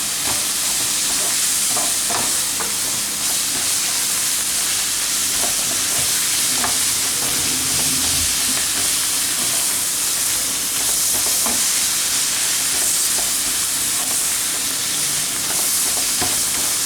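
Tomato paste sizzling and frying steadily in a hot pan while a spoon stirs it now and then, a dense continuous hiss with soft scraping clicks close by.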